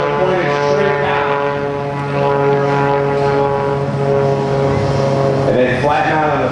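Aerobatic propeller airplane flown by John Klatt through a square loop at a joint services open house airshow, a steady loud engine drone with strong harmonic tones and a rising pitch sweep near the end, with an announcer talking over it.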